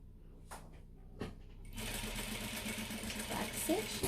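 A sewing machine stitches a leather card slot piece for a clutch wallet, starting after a few quiet taps and running steadily at close range with an even mechanical whir for the remainder.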